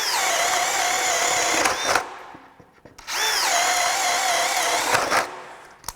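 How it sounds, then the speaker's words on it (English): A Craftsman brushless hammer drill with a 9 amp-hour battery spins a 1-inch spade bit, two loud whining bursts of about two seconds each separated by a short pause, the motor pitch rising as it spools up. "9 amp hour, 1-inch spade bit, we're back. Let's just listen here."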